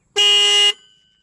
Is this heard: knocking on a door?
no